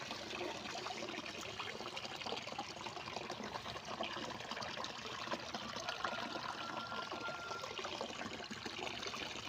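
Water trickles steadily through a pipe connection leading to an aerator at a garden setting, a soft, continuous, faint flow with no pauses.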